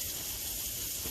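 Shrimp sizzling in a pan for pesto shrimp linguine, a steady close hiss of frying without pauses, quiet and alone.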